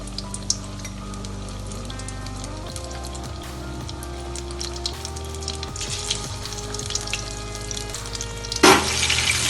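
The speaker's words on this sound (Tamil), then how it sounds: "இப்போ இந்த நெத்திலி எடுத்து டிப் பண்ணிக்குவோம். வானலில் எண்ணெய் ஊற்றி போட்டு காஞ்சிடுச்சு." Anchovy fish bajji sizzles steadily in hot oil in a kadai, a continuous close frying crackle that swells into a louder burst near the end.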